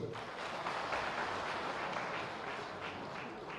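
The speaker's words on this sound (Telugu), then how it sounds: "చప్పట్లు కొట్టొచ్చు." Applause from the audience at a political party constituency meeting, steady crowd clapping at moderate distance that holds evenly throughout.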